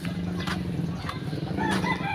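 Chickens clucking and crowing nearby in a short burst of farmyard calls, with a steady low hum underneath.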